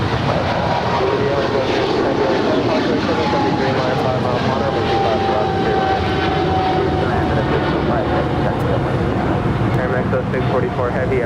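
A Boeing 777 on final approach to land at LAX, a steady, loud, broadband engine roar that holds constant throughout, close and unbroken, with a voice speaking over it.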